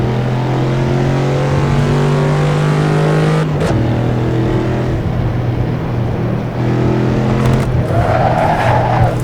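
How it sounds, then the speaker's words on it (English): A Ford Mustang drifting in the racing game Assetto Corsa, its V8 droning steadily under a loud continuous tire squeal that swells and wavers as the car slides, close and dominant throughout. "Drifting!"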